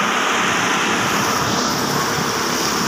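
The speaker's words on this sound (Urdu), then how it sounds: "بہت ہی زیادہ چل رہا ہے پانی" Swollen Deg river floodwater surges past a bridge in Pasrur during the 2023 flood, giving a continuous heavy rushing wash that stays close and even throughout, with no talking.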